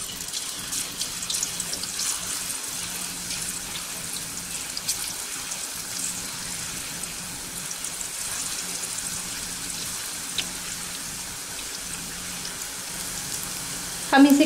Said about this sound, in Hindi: यहाँ पे अब हमें इसमें मसाले वाला स्लाइस डालना है केले का।